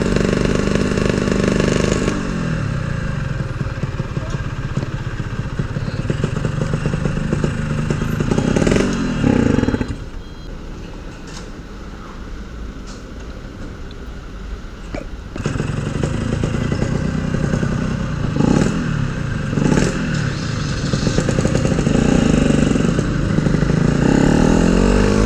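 A Yamaha RX King two-stroke motorcycle with a faulty gear ratio labours along in first gear, its loud buzzing engine droning steadily, easing off for a few seconds mid-ride before revving back up.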